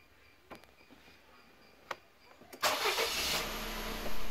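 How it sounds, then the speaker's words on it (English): A car with a previously repaired lean-running fuel trim fault cranks and fires: a few soft clicks, then the engine catches with a loud, steady roar that settles into a running hum. "So let's start the car"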